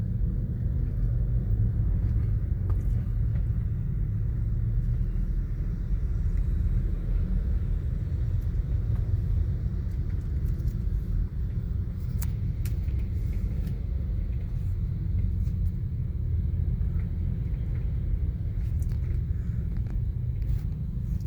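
Early morning road traffic on EDSA in Makati, heading toward Ortigas past Guadalupe: a steady, continuous low rumble of car and vehicle engines, close and even in loudness throughout, with no talking.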